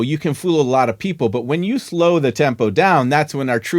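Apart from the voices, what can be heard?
No everyday noise stands out behind the speech.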